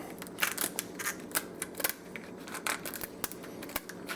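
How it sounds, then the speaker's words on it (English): Basic kitchen shears cut along the shell of a lobster tail in a series of sharp, crisp snips and crunches, close and irregular, with brief gaps between cuts. "So just using basic kitchen shears, we're going to insert the shear at the top of the shell"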